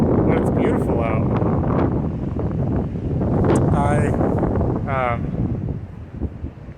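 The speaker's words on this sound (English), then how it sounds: "enjoying the wind and the nice ocean breeze" Strong coastal wind blowing steadily on the Pacific shore at Monterey, a continuous broadband roar with gusts buffeting the microphone, while people talk faintly in the background.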